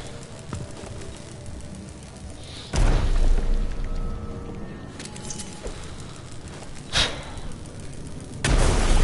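Grenade blasts in a first-person shooter: several sharp, loud booms spaced a few seconds apart, each with a short decaying rumble, with no talk over them.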